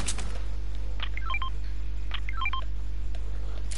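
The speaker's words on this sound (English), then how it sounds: "I'm just pinging everything that I leave" Two quick runs of beeping game-ping tones, each a rapid stepped sequence of short electronic bleeps, sound about a second apart over a steady low hum.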